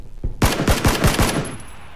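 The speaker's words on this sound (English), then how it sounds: "I'm getting shot at" Rapid gunfire in PlayerUnknown's Battlegrounds cracks out as a burst of about six loud, evenly spaced shots lasting under a second, with no talk over it.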